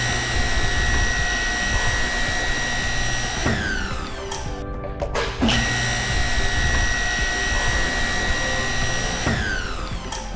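A 2018 Ironwood BR23 construction boring machine with a 3 horsepower, 220 volt single-phase motor runs as a loud, steady close hum. Its pitch falls briefly twice as it cycles, with a short dip between the two falls.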